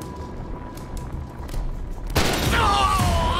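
A gunshot in the turn-based Wild West game Hard West 2: a single loud, booming blast that cuts in sharply after a quiet stretch of game ambience and leaves a lingering, ringing tail.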